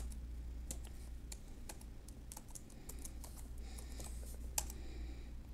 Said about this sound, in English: it's still typing the password in